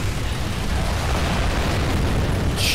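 Missile salvo explosions in the video game Gears of War 2, a dense, continuous wall of loud booming blasts and rumble that roars on without pause for the whole stretch.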